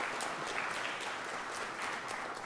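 Applause from an audience at a Columbus Metropolitan Club panel on hiring veterans, a steady, even wash of many hands clapping, soft and somewhat distant, with no voices.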